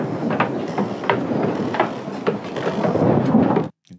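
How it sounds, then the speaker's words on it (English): A heavy thunderstorm with steady rain and low rumbling thunder from the film The Mist fills the scene loudly, then cuts off abruptly near the end. "Okay, that's a big storm."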